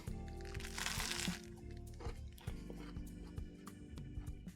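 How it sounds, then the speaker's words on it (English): Crunchy air-fried bread with steak and peppers is bitten and chewed up close, giving sharp crackling crunches followed by softer rhythmic chewing. "The bread is extremely crunchy."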